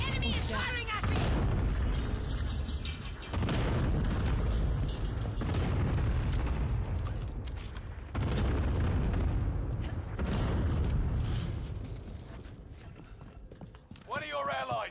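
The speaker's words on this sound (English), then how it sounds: "Enemy cluster strike! Watch your heads!" Heavy, rumbling blasts from a cluster strike in the game Call of Duty: Warzone Rebirth, with booming impacts that come in long, dense waves and leave little silence between them, while voices talk over the barrage.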